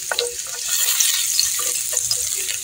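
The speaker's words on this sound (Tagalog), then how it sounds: "Dahil mainit na siya, gigisa lang natin yung ating bawang." Garlic sautéing in hot oil in a pan, a steady bright sizzle with light crackles, close and continuous, alone without talk.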